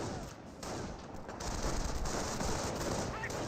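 Rifle and machine gun fire rattling in a Company of Heroes battle between Volksgrenadiers and BAR-equipped riflemen, a dense continuous fusillade of overlapping bursts at moderate distance.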